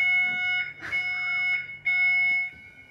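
A fire alarm blares continuously with steady high-pitched tones, loud and close, with a few brief rustles and bumps beneath it.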